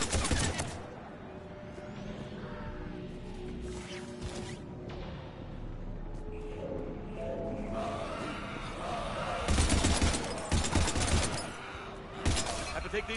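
Bursts of rapid gunfire in the sci-fi shooter game Mass Effect 2, loud clattering volleys at the start and again near the end, with battle noise and voices talking in between.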